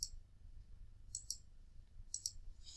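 Mouse clicks on a computer while webcam pictures are taken: crisp, close clicks in small clusters, two or three at a time with short pauses between, over quiet background hum.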